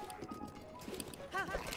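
Horse hooves clip-clop on the ground in the video game Breath of the Wild, a steady galloping rhythm mixed with game music and a brief whinny-like tone near the end.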